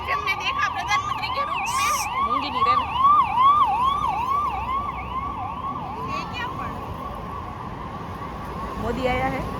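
A police car siren wails in a rising and falling pattern, moderately near, over street noise with faint voices in the background.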